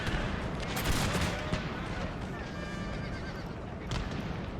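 Cavalry pistols fire in a Total War battle set in the Thirty Years' War, sharp shots crackling over a dense, continuous roar of combat with horse whinnies and hooves mixed in.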